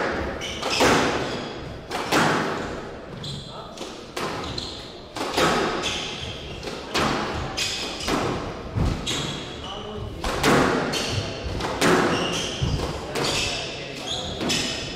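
During a professional squash match rally on the PSA Challenger Tour, the ball cracks and thuds repeatedly against the court walls in a fast irregular rhythm, with squeaking and commentary voices underneath.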